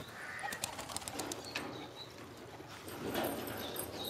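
A pigeon takes off with a quick flurry of wing flaps, followed by soft rustling and faint bird sounds in the background.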